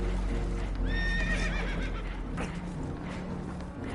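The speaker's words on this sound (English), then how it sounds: "Horses are spooked" Spooked horses aboard a damaged, leaking boat let out one loud, close whinny with a rising and falling pitch, followed by restless hoof clatter and a steady rumble of noise.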